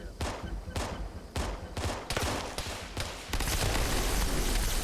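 Bursts of gunfire from the Halo video game, repeated rapid shots in rhythmic volleys, then a sustained dense barrage toward the end, fairly loud in the mix.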